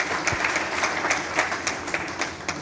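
An audience at a community-service talk claps to thank those honored. The clapping is fairly close and comes in uneven, scattered bursts, with individual sharp claps standing out.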